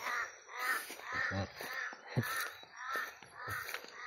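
Several crows caw repeatedly in harsh, rhythmic bursts, fairly close, with a few overlapping calls and no talking.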